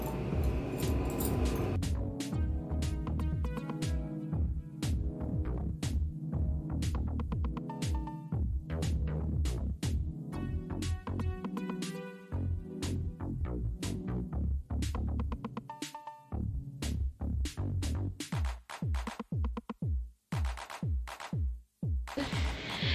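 Sewing machine stitching the neckline of a kurti, a fast close mechanical rattle in long runs, with pauses and slow single stitches between them.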